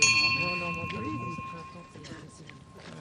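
Ceremonial liberty bells ring at a D-Day 80th anniversary ceremony at the Haras de Saint-Lô. A loud bell strike at the start decays into a sustained tone, heard beneath someone speaking French throughout.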